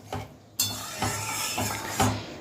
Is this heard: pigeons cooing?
no